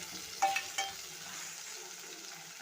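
Small onions are stirred in a frying pan for a dried-fish thokku, a quiet sizzle running throughout with a couple of sharp metal spatula knocks against the pan near the start, close and without talk.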